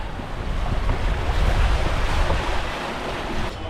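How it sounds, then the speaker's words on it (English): Wind gusts across open water aboard a catamaran, a loud, broadband rushing roar with buffeting on the microphone and the wash of waves beneath, steady for a few seconds before easing slightly. "beautiful wind out here tonight"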